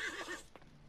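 A horse whinnies in the Disney Infinity 2.0 video game during a Brave-themed highland festival horse race, a short wavering neigh that is close and clear, followed by a brief soft thump.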